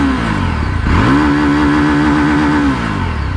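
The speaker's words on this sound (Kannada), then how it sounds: "ಎಕ್ಸಾಸ್ಟ್ ನೋಡಿ ಹೇಗಿರುತ್ತೆ." A motorcycle with dual-channel ABS starts up and its engine catches with a rising snarl. The exhaust settles into a loud, close, throbbing idle, then eases slightly near the end.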